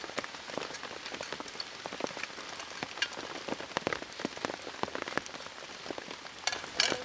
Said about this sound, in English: we've just been having a bit of downpour now and again, and some of it's really heavy for about 10-20 minutes